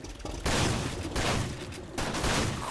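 Gunfire in the shooter Far Cry 2 comes as a dense burst of loud, close shots, cutting out briefly before another heavy volley resumes and continues.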